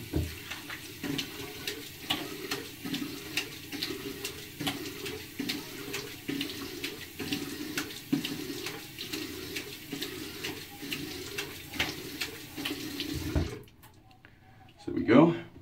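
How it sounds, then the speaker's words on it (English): Hot water running steadily from a bathroom tap into a sink while a man rinses his face before shaving, a continuous splashing hiss under his talking that cuts off near the end. "I'll go ahead and rinse my face off and start lathering"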